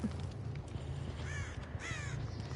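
Crows caw repeatedly in Dead by Daylight, a couple of raspy calls rising over a steady low ambient drone of the game's background, with no talking.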